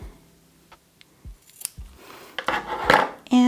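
Scissors snip embroidery thread on a moss rug project, giving a few quiet close clicks and snips with handling rustle and a sharper cut near the end.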